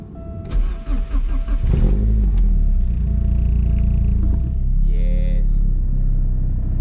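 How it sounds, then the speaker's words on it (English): A Porsche 944 with a new exhaust cold-starts: a brief crank catches into a loud, steady, rumbling idle close to the car, with a few voices early on. "we've got to get a cold start up, obviously."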